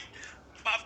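A telephone rings in a courtroom video game: a short, bright ring bursts out near the end, after a stretch of low background sound and voices.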